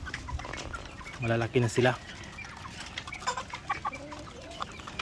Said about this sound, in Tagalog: So medyo gutom na itong mga manok natin.